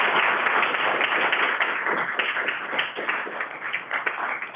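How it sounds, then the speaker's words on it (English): Applause from a workshop audience, dense steady clapping filling the whole stretch at moderate loudness with a few sharper individual claps standing out. "I think we should give us own a round of applause"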